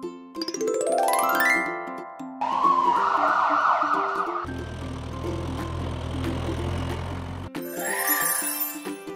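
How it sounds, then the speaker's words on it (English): A toy-like ambulance siren wails in rising and falling electronic tones. It is loud and close, with jingly effects mixed in and no voices. "Ambulance."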